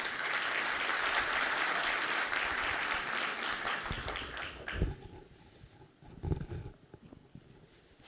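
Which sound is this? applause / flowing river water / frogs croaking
applause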